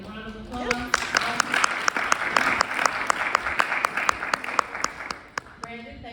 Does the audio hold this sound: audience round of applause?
yes